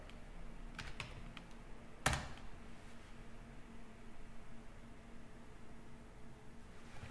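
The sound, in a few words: typing a command on a computer keyboard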